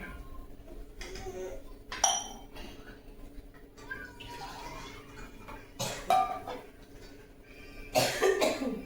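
A few sharp coughs at intervals, fairly close, with faint clinks of dishes and some quiet background voices.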